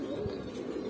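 A Baki-line pigeon gives soft low coos close by, a couple of brief murmuring calls over a quiet background.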